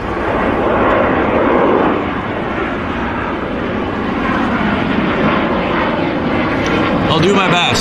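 A Porter turboprop airliner climbs out after a long takeoff roll at Vancouver airport, its steady, loud engine and propeller roar filling the whole stretch without letting up.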